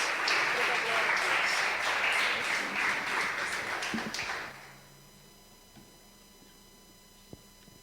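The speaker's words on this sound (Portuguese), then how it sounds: "Aplaude o Senhor mais uma vez." Church congregation applauding, loud rapid clapping for about four seconds that stops abruptly, followed by near silence with a faint tap.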